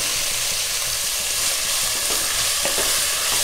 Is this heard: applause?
no